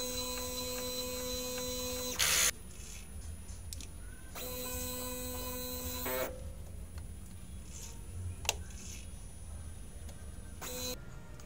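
A DTF printer runs a print head clean, giving a steady mechanical hum and whir with a few louder bursts of pump and carriage noise and an occasional sharp click, with no talk.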